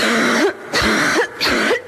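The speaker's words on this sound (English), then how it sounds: "the big jarring cough" Three harsh, hacking coughs in a row, evenly spaced with short pauses, close and loud.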